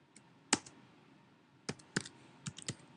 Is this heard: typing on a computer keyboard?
yes